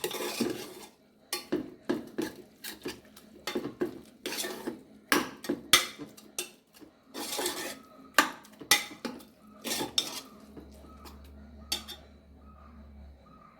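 Cooked payar lentils are mashed in a metal pot, the utensil knocking and scraping against it in irregular, close clattering strokes for several seconds before easing off.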